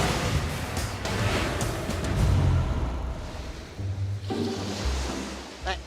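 Sea waves wash and surge steadily against the shore, loud and close with broad rushing noise and some wind buffeting the microphone, swelling and easing without voices.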